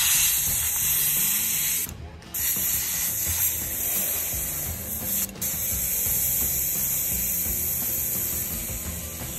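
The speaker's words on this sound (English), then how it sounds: "let's load up our airbrush with this mix and spray it on here in three different coats" An airbrush sprays a dark green paint mix onto a custom McFarlane action figure, a steady close hiss that fills the clip and breaks off twice for brief pauses.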